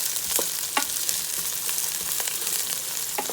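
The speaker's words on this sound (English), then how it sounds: "Let it just saute." Vegetables sautéing for curry chicken in a Power XL cooker, a steady crackling sizzle with scattered sharp pops and light stirring clicks, close and moderately loud with no talking.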